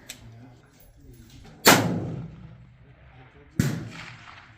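Rifle shots fired at a distant long-range target: two sharp, loud reports about two seconds apart, each followed by a decaying boom, over faint background noise.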